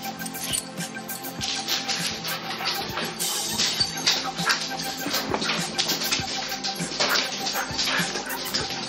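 Dogs whimper and yip close by in New England, with scratching and shuffling as they move about; the whines come in short, irregular bursts.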